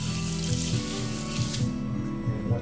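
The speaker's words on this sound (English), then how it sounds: "Put the final rinse with some more water." Water runs and splashes while wine bottles are rinsed, a steady hissing spray with gurgling pulses that thins out near the end.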